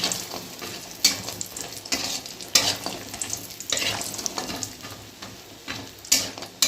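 Bori, small lentil dumplings, fry in darkened oil left over from cooking fish, crackling steadily up close while a utensil stirs and clinks against the pan at intervals.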